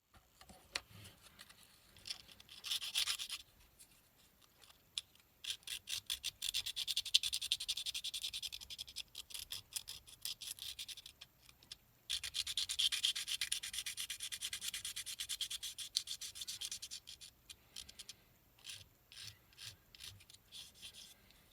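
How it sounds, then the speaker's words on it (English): Steady rasping scrape of sanding on the body of an HO scale GE 60-ton locomotive model, in repeated strokes with brief pauses, close and fairly quiet, no talking. "So let's start sanding."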